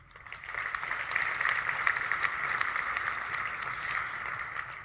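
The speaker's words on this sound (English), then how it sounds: "Please join me in a round of applause for our judges" Sustained applause from a sizable crowd at an engineering awards ceremony, rising quickly and holding at an even, fairly loud level throughout.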